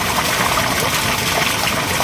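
Rainwater from a house roof and farm fields pours steadily into a borewell recharge chamber, a close, continuous gushing and splashing flow with no voices over it.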